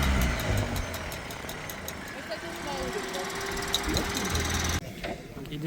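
A Jeep Wrangler arriving at the Udabno Challenge 2026 off-road event idles with a steady mid-pitched engine hum, under voices chatting nearby.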